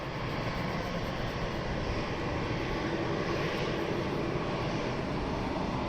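A jet aircraft taxiing at London Luton Airport, its engines giving a steady, loud, broadband roar that holds evenly throughout with no pauses.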